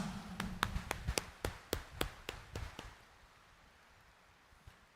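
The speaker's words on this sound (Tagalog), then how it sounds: "itaas nga ang kamay at pumalakpak ng mas malakas" A church congregation at a homily claps hands in a string of about ten sharp, evenly spaced claps that are close and loud, then stops, leaving near silence.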